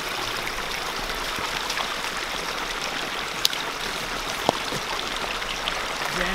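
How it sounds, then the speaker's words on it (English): A woodland stream running out of a pond, giving a steady, even rush of flowing water with a couple of faint clicks and drips and no voices. "this stream is stemming from the pond. And it runs all the way through my property."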